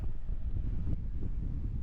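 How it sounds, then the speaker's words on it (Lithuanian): Strong headwind roaring across the microphone while riding downhill, a steady low buffeting rumble that fills the whole clip with no voices. "Vėjas iš priekio pučiantis."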